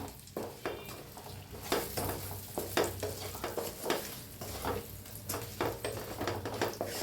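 A raw tomato mixture being stirred in a pan, a continuous frying sizzle broken by repeated scraping and clinking of the spoon, close and alone.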